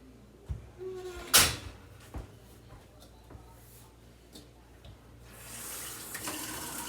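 A bowl is washed under a running kitchen tap: a few scattered clinks and knocks, then a soft, steady rush of running water near the end.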